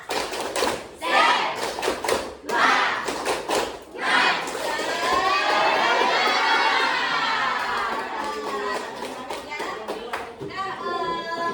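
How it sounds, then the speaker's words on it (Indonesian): Children in an Indonesian classroom perform the tepuk semangat clapping chant, a group of young voices shouting in rhythm with bursts of claps, then sustained excited chanting and cheering filling the room, fairly loud and close. "tepuk semangat"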